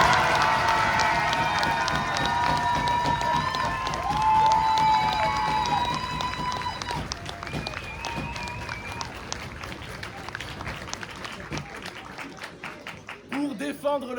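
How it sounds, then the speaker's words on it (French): An audience at a French-language debating final applauds and cheers in a continuous, lively roar, with shouts and whistles rising above the clapping before it thins out toward the end. "Mesdames et messieurs, le bruit des mots sous vos applaudissements."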